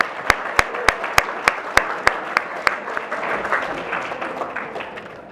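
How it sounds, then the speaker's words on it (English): An audience at a nonprofit awards celebration breaks into applause, with several sharp, evenly spaced close claps over a building wash of crowd clapping that gradually thins out. "let's give another big round of applause to Larry Eames of Book Smiles."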